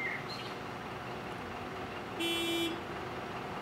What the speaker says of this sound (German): Oh, wir dürfen ja nicht hupen, habe ich gehört.